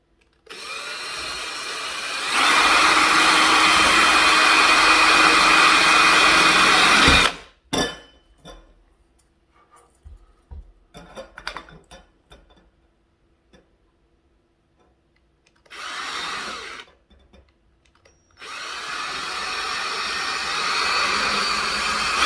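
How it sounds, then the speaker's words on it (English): A power drill bores holes in a metal can, whirring in two long bursts, then a short third burst, with clicks and handling noise in the pauses between. "So I'm just going to drill a couple of holes in there to let that out."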